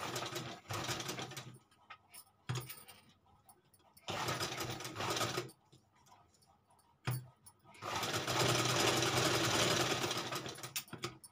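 A sewing machine stitches along the cut edge of fabric in bursts, fast mechanical whirring runs starting and stopping with short quiet gaps, the last run longest and loudest.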